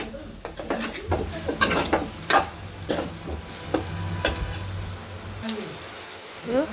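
Spicy chicken fries in an uncovered pan with a steady sizzle, while a utensil repeatedly scrapes and clinks against the metal in irregular stirring strokes, close and fairly loud.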